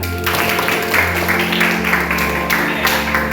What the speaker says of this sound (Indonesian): Tepuk tangan Ustaz.